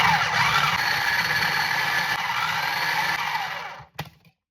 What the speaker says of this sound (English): You're just gonna take your bread and you're gonna put it in your processor like so.